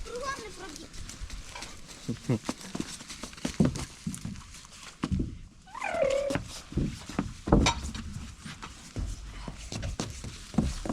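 A dog whimpers and whines during a walk in a forest, with high, wavering cries among footsteps and rustling, while people talk nearby.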